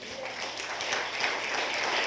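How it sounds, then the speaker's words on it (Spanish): A church congregation breaks into sustained, dense applause, a steady wash of many hands clapping filling the room without a pause. "¿Cuánto le damos un aplauso a Él?"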